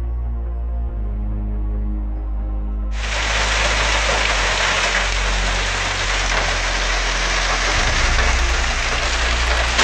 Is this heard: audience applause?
no